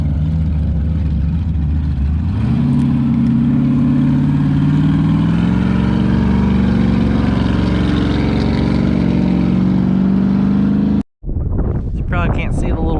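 Off-road race cars labour up the Turkey Claw hill climb at King of the Hammers, engines droning loud and close with rising revs and heavy wind buffeting, the roar cut off abruptly near the end before resuming.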